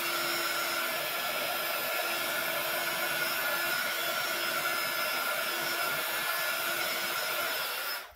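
Close, loud, steady whir of a hair dryer drying a handmade birthday card, a continuous blowing drone that cuts off at the end.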